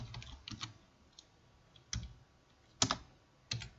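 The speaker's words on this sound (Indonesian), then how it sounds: "Langsung saja kita ketikkan di sini" Scattered keystrokes on a computer keyboard, a few separate clicks and short clusters with pauses between, close and fairly quiet.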